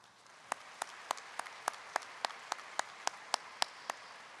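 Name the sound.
graduation audience applause for parents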